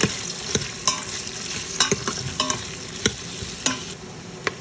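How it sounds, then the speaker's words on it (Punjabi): Onions fry in a pan as the base for Punjabi-style tomato soup, a soft continuous sizzle punctuated by sharp, evenly spaced scraping stirs of a spoon. "ਹੁਣ ਪਾਵਾਂਗੇ ਆਪਾਂ ਇਹਦੇ ਵਿੱਚ ਪਿਆਜ਼ ਹੁਣ ਆਪਾਂ ਇਹਨਾਂ ਨੂੰ ਚੰਗੀ ਤਰ੍ਹਾਂ ਭੁੰਨ ਲਾਂਗੇ"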